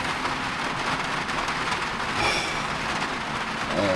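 Heavy rain pours steadily onto a cargo trailer at an off-grid campsite in wet weather, a dense continuous hiss and patter close by with no voices.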